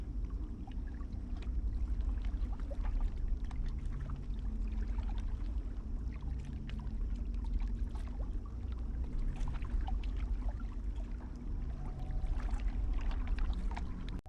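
A raft glides across water in the video game Outer Wilds: Echoes of the Eye, giving a steady low rumble with soft lapping and trickling close by, continuous and unhurried for the whole stretch with no voices.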